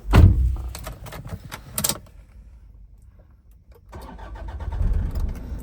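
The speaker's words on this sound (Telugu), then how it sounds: "కార్ అయితే స్టార్ట్ చేశాను నేను." A 2014 Toyota Innova 2.5V diesel cranks with a few rapid bursts and catches, then briefly goes quiet before the engine settles into a low, steady idle.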